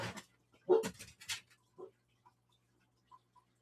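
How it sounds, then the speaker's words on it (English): A few dogs bark in a short burst from nearby inside an office setting, then give way to quieter scattered yaps and near silence. "Damn dogs."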